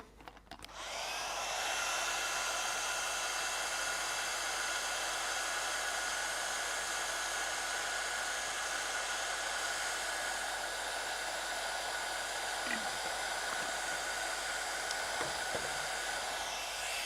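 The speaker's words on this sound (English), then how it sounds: "just going to bring my heat tool in again" A heat tool blows hot air over a handmade shaker card in a steady, loud, close whoosh that runs almost the whole time with no talking.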